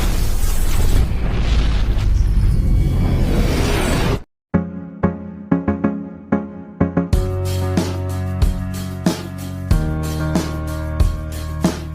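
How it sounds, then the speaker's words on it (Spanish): A loud, roaring explosion fills the opening seconds, then breaks off into sharp, ringing impacts and dramatic music hits. "provocando una gran explosión"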